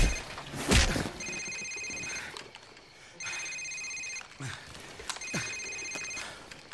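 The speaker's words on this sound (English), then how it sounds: "Sir, it's his cell phone." A cell phone rings repeatedly inside a house in Call of Duty Modern Warfare, three evenly spaced electronic ring bursts sounding fairly faint over quiet room ambience.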